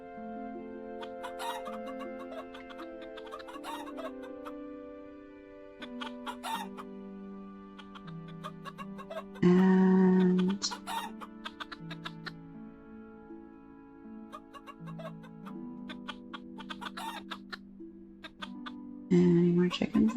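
Chickens clucking in the farming video game Teddys Haven, soft scattered clucks over quiet tonal game music, with two louder bursts of clucking standing out near the middle and end.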